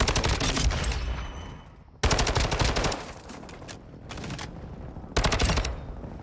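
An AUG rifle in Modern Warfare II fires in rapid automatic bursts, loud and close, with three sharp onsets of sustained gunfire separated by brief decaying tails and no talking.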